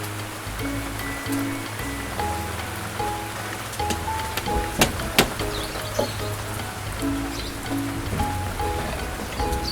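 Rain falling steadily on surfaces outdoors, a dense continuous patter with scattered louder drips and a few sharp knocks.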